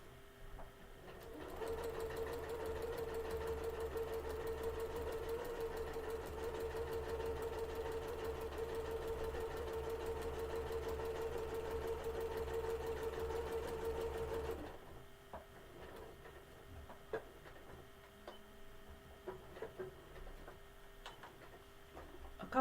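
A sewing machine stitches a Halloween coaster in a steady, fast mechanical whir for about fourteen seconds, then stops, leaving a few faint taps and handling noises.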